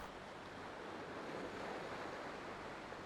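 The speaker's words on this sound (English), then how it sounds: "Also, this water is very loud." Loud flowing water in the Satisfactory video game makes an unbroken, even rushing hiss that fills the whole stretch, heard alone without speech.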